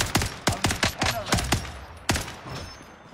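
Gunfire from a first-person shooter on the Alcatraz map crackles out in several sharp, closely spaced shots in short bursts, with a final isolated shot, and no talking.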